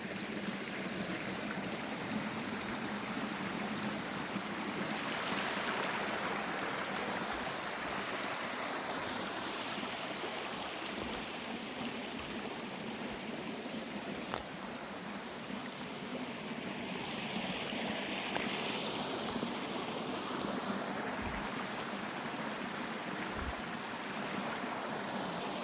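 A brook runs through the woods of Northern Maine on a hot day, a steady soft rush and trickle of water that carries on evenly throughout, with a couple of faint brief knocks and no speech.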